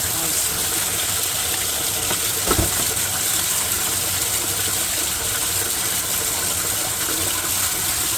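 Water runs steadily into a basement laundry sink, a loud continuous gushing rush that fills the whole span, with one brief knock partway through.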